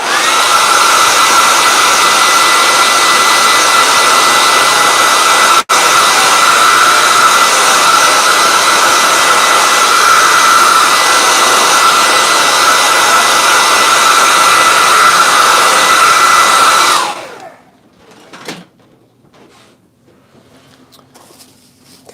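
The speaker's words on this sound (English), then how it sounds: "quick zap this with the hair dryer" A hair dryer blasts steadily and loudly at close range, drying paint on a sketchbook page, a continuous broadband whoosh for about seventeen seconds before cutting off abruptly, leaving quiet handling noises.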